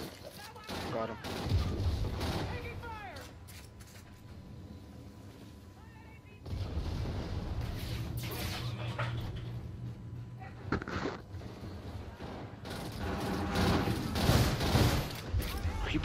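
Video game shootout gunfire, several players firing at one opponent, comes in dense clustered bursts through most of the stretch, loud and close, mixed with game effects and under ongoing talk.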